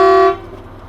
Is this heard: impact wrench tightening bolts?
no